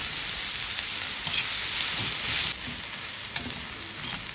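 Onions frying in oil for Maharashtrian eggplant bharit, a continuous close sizzle with soft stirring scrapes, easing slightly partway through as more oil goes in.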